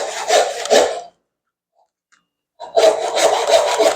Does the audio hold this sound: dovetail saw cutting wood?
yes